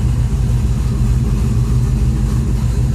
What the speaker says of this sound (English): Idling at about 800.